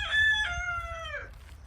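A single rooster crows once, a clear drawn-out call that falls off at the end, moderately distant with a low background hum.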